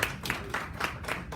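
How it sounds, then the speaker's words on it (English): Scattered clapping from a small audience honoring people at a community nutrition event, a few loose bursts of hand claps over about a second, moderately loud with no talk. "Give them a big round of applause."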